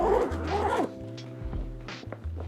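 A zipper on a Tesmanian frunk cooler for the Tesla Model Y is pulled open in a few short, close rasping strokes, loud at first and then quieter, with brief pauses between the pulls.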